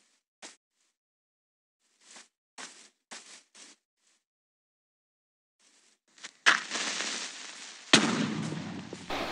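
In the Minecraft video game, a few quiet clicks and taps give way to a sudden loud creeper explosion, with a second sharp blast and rumbling burst following closely.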